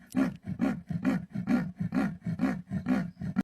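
A jaguar, a big cat of the Amazon rainforest, gives a series of about eight rhythmic, rasping grunts in quick succession, close and fairly loud, with no talking.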